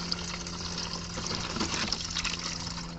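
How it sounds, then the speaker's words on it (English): Windshield washer fluid pouring steadily from a container, a continuous close gurgling splash of liquid without pauses. "And that's how we pour washer fluid."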